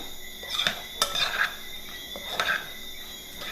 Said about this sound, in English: And just stir this all up.